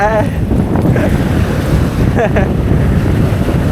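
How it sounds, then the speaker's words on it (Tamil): Sea waves wash onto a beach in a loud, continuous roaring rush, heavily buffeted by wind noise on the microphone, with faint voices in the background. "அது அலை வந்துருச்சு அலை வந்துருச்சு"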